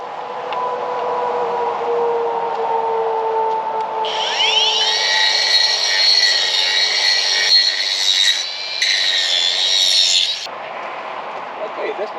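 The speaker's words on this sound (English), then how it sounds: "I got to do a little bit of trimming with my grinder." Angle grinder trimming a metal part for a 16-foot farm gate, a steady high whine that rises and holds for several seconds before cutting off, with a low hum underneath throughout.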